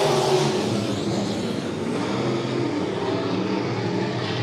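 Race cars accelerate together at a green-flag restart during heat races at Monett Motor Speedway, giving a dense, steady engine roar at moderate distance.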